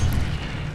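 Incendio fire spell cast in Hogwarts Legacy, a brief, loud, roaring burst of flame with a heavy low whoosh, heard alone and up close.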